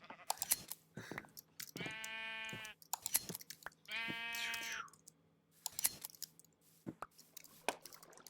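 Two clear, loud sheep bleats from a Minecraft Skyblock game, each lasting under a second, spaced apart amid scattered clicks and soft crunching sounds.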